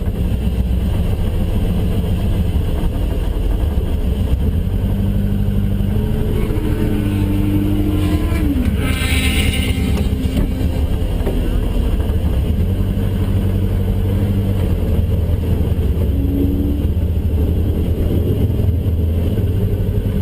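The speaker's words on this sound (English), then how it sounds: "I'm just kind of waiting for the traffic to go by before I back out" Cars and motorcycles idle and roll past at Muncie Dragway during a radial and slick tire test and tune, a close, loud, steady engine rumble with passing vehicles and revs rising and falling.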